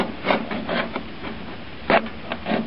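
A knife cuts notches in the material for a hobo stove, heard as a few short, close scraping strokes with brief pauses between them.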